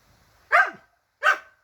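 A dog barks twice, sharp and fairly close, with a short pause between the barks.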